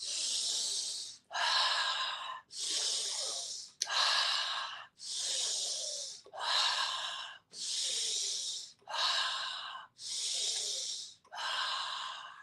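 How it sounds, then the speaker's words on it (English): Ten deep, rhythmic breaths of a Wim Hof breathing exercise, each a loud, airy rush lasting about a second with brief gaps between, close and steady, no talking. "So let's get started with this Wim Hof breathing. We're going to breathe in starting now."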